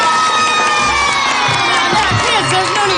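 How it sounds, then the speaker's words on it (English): A crowd of children cheers and shouts excitedly in a loud, continuous burst, high voices whooping and overlapping without a break. "Kids, there's no need for all this excessive cheering."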